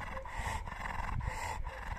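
An American Bully dog panting heavily and rapidly at close range, with quick rhythmic breaths over steady outdoor background noise.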